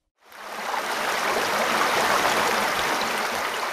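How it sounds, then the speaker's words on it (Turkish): A river flows at the Altai Republic border, a loud, broad, continuous rushing of water that swells in quickly and then holds steady, with no voices. "Şu an Altay Cumhuriyeti'nin sınır noktasındayız ve bir ırmak kenarındayız."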